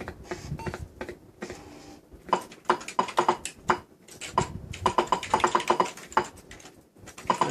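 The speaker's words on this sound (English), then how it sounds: "I'm just going to type this one in" Typing on an Atari computer keyboard while entering a BASIC program, heard as close, irregular bursts of clicky keystrokes with short pauses between runs, and no talking.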